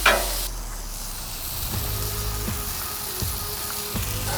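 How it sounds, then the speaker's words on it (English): Burgers hit a hot Blackstone griddle with two burners running, starting a loud, steady hiss of searing that stays close and continuous, with a few faint scraping clicks beneath it. "Let's put our burgers on."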